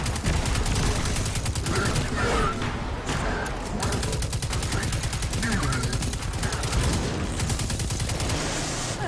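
Dense, continuous gunfire and grenade blasts from the Destiny 2 video game, a loud sustained fusillade with rapid repeated shots layered throughout, with a voice talking over the action.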